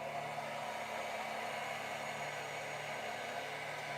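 A hair dryer blows steadily on a freshly clear-coated painted figure of a Mandalorian character, a constant even whooshing hum of moderate loudness with no talking.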